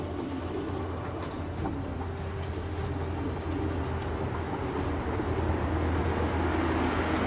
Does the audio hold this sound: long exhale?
no